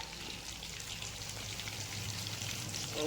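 Fish fries crisply in a hot pan, giving off a steady, dense sizzle with fine crackling throughout, close by and without speech.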